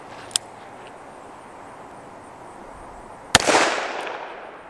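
A .357 Magnum pistol fires a 158 grain cast lead bullet over a hot powder load: one loud, sharp crack followed by a rolling outdoor echo that fades over about a second, with a faint pop just before.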